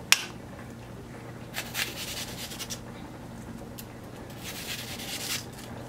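Knife slicing onions into wedges on a cutting board, heard as soft, quiet cuts and scrapes scattered irregularly over a steady low room hum, with no talking.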